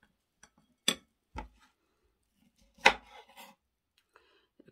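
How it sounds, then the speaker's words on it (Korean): A knife cuts green kiwi into half-moon slices on a board, making a few sparse, close chops and taps separated by silence. "반달 모양으로 이렇게 썰어 주시면 돼요."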